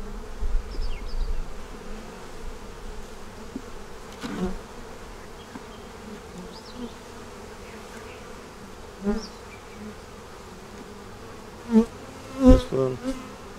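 Honeybees buzz around open hives during an inspection, a low continuous drone with a few louder bursts as bees pass close by. No one speaks.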